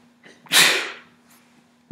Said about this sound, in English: I'm going to sneeze here.